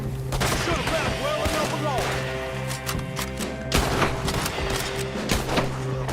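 Dual pistols fire rapidly in Red Dead Redemption 2, with dense overlapping gunshots cracking throughout over a steady game music drone, some shots loud and close, others more distant.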